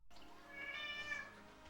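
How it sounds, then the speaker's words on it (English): A single drawn-out cat meow rises and falls close to the microphone, fairly quiet and alone over a soft room hum. "Okay, TBF, the cats are cute."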